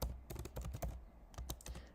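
Fingers type a prompt on a computer keyboard, producing a quick, uneven run of close, crisp key clicks with a short pause midway.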